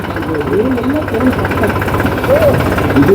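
Ferguson tractor engine started by remote key at a Krishi Mela farm fair, idling loudly and steadily up close with a low, throbbing rumble while someone talks over it.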